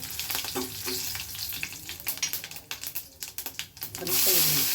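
Mustard seeds and chillies tempering in hot oil for a drumstick-leaf rasam, giving a steady crackling sizzle with sharp popping bursts, close by, swelling louder near the end.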